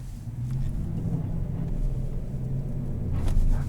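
A 2016 GMC Sierra 1500 SLT pickup drives across an ice patch, its engine giving a steady, loud low rumble that swells slightly toward the end as it pushes through without traction.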